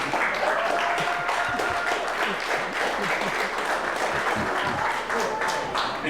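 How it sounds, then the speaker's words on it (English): A crowd at a wrestling event, Beastman vs AJ Alexander, applauds and cheers. The clapping is loud and sustained throughout, with crowd voices mixed in. "That's where you clap."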